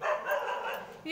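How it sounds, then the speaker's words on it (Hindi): A dog barks outdoors near the Ram Vatika temple, its yaps mixed in with a person speaking close by throughout. "तो देखिए कुत्ता भौंक रहा है"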